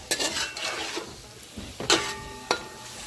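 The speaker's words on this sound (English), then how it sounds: "I add the shrimp and stir it" Shrimp being stirred into tomato fried rice in a hot pan, with a soft ongoing sizzle and a few sharp scrapes and clinks of utensil on metal.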